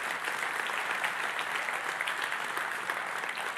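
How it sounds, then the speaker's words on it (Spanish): A church congregation applauds steadily, a dense wash of clapping that holds throughout without pause. "Denle un aplauso a Jesús."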